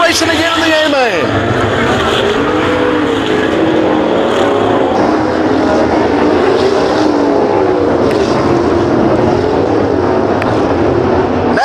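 Sprint cars race in an A-Main at a Waco, Texas dirt track, their engines a loud, continuous roar that swells and fades as they pass, under an announcer's running commentary.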